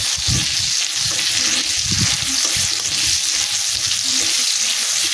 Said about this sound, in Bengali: এই মশলাটা আমি হালকা করে ভেজে নেব